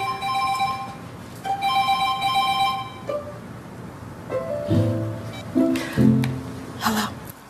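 A mobile phone ringtone rings with bright repeating melodic tones for the first few seconds, followed by further electronic notes and rustling movement nearby, with no speech.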